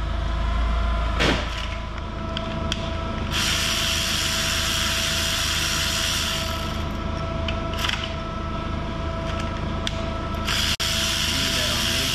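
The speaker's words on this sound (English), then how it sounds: "So we just removed the power steering pump" A ratchet works on the power steering pump of a Crown Vic during a 7.3 Godzilla engine swap, with bursts of close mechanical clicking and tool noise over a steady background hum.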